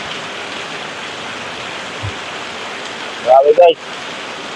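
Heavy nighttime rain pours in a steady, dense hiss that fills the whole scene, with a voice briefly exclaiming over it near the end.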